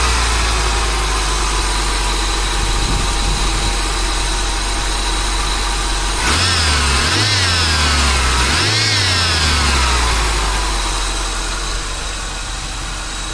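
Oldsmobile Cutlass engine idles steadily and loud up close, then rises and falls in two hand-worked throttle revs midway before settling back to idle.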